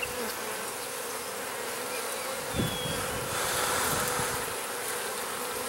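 Dense, close buzzing of honey bees swarming over a hive frame, a steady droning hum with a few louder passes as individual bees fly near.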